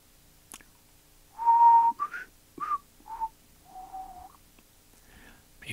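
A person whistles a short melody of several distinct notes, clear and close, with brief pauses between phrases and no talking.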